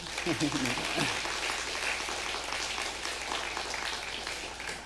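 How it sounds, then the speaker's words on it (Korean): Church congregation claps during a Sunday worship service, a soft, steady patter with a voice speaking briefly near the start. "박수 한번 칠까요?"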